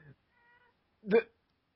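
A house cat gives a single short meow at close range, following a faint harmonic tone earlier, with brief voice sounds at the start.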